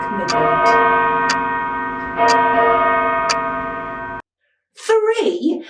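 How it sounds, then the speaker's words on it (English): A clock ticking and chiming midnight as a storytime sound effect, several bright bell-like strikes ringing out with sustained tones, then a short silence before a voice speaks. "until the clock struck midnight"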